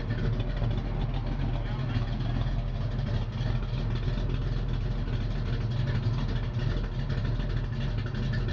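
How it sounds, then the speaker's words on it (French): A 1972 Chevy C10 pickup's engine idles with a steady, low rumble continuously at close range, even and unchanging throughout with no revving. "un moteur qui tourne bien, pèse bien, il a un bon ralenti"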